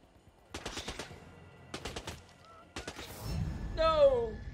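Video game gunfire in Hitman, with several rapid bursts of automatic fire separated by short pauses, followed by a rumbling impact and a high honking wail at the end.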